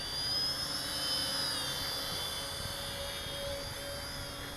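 An SJ R/C X300-2C camera drone hovers and yaws outdoors, its steady high-pitched rotor whine continuous and fairly close, with slight shifts in pitch as it turns.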